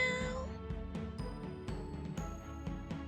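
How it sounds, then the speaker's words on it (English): A cat meows repeatedly, several short tonal calls spaced through the clip over a faint background of music, fairly quiet overall. "And what is the sound of cat?"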